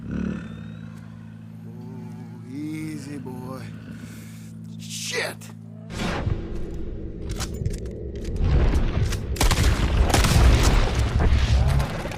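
In Red Dead Redemption 2, a loud gunshot booms mid-scene, followed by a rumbling burst of game sound, with a voice and animal-like cries heard earlier.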